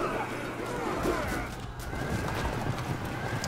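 Cavalry horses whinny in the strategy video game Field of Glory II, loud neighs over a jumble of battle noise and hoof clatter.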